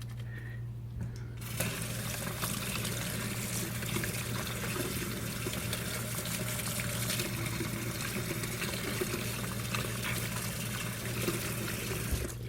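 Water mixed with detergent gushes and trickles steadily through a pipe being cleaned, a continuous close rushing flow that starts after a brief quieter moment.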